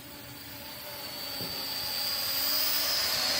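A small RC Cray Z LT Xtreme Shooter quadcopter drone without prop guards spinning in a yaw test, a high whining buzz of motors that rises and grows louder, nearby and alone.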